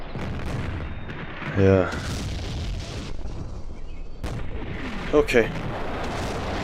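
Mortar artillery fire booms in the Combat Mission World War II strategy game, with a couple of distant thuds and bursts rising over a steady battle bed while someone briefly talks.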